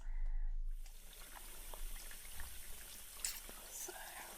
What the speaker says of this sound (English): so I'll rinse you out now